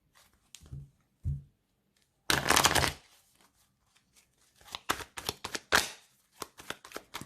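Oracle cards being shuffled for a reading, with soft taps, a dense riffling burst, then a series of crisp flicks and slaps as cards are handled, close and quiet.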